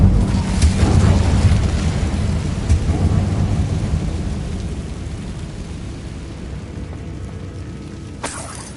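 An Incendio fire spell in Hogwarts Legacy bursts with a loud, rumbling roar that slowly fades over several seconds, followed by a faint crackle near the end.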